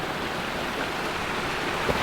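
Waterfalls and flowing water in a canyon hot spring make a steady, close, broadband rush with no pauses, filling the short stretch on their own.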